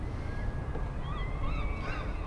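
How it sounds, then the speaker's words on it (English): Several seagull cries rise and fall over steady low-frequency rumble and wind at a harbor in Astoria, Oregon, some nearer and louder, others faint in the distance. "Lots of calling seagulls"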